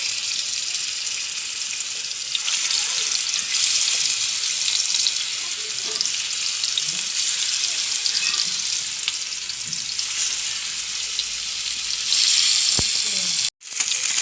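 Pieces of snakehead fish fry in a pan, giving a loud, continuous sizzle with a few faint utensil clinks and a sharp clatter near the end.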